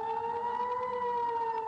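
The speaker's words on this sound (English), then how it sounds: "Air raid sirens wailed in southern Israel" Air raid sirens sound in southern Israel as a steady, sustained wailing tone that stays loud and continuous throughout, with no voices.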